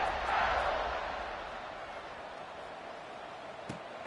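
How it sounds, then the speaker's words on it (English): Home crowd noise in a stadium during a football game, a broad far-off roar of many voices that swells early and then settles to a steady murmur. "it just feels like they're really feeding off of this home crowd and their energy"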